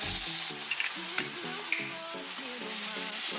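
Onion frying in an oiled pan while cooking scrambled eggs for breakfast, a loud, continuous sizzle with background music playing over it.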